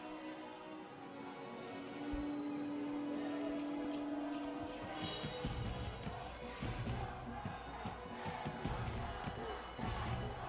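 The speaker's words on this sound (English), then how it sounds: "The cheer is there for the Solomon Islands" Football supporters in the grandstand at a Pacific Mini Games men's match between Solomon Islands and New Caledonia raise a loud, sustained crowd roar that swells midway and carries on, with a steady hum running beneath it early on.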